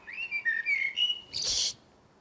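A blackbird sings a brief phrase during lockdown, smooth sliding whistled notes running into a harsh, high chattering burst at the end, close and clear in quiet surroundings.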